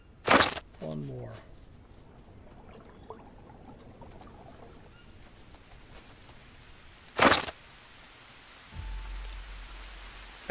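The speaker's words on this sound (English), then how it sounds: "The rain is starting to fill it in" Steady rain falls in the Green Hell jungle survival game as a soft, even hiss beneath sharp loud game effects near the start and around seven seconds, with a low tone entering late.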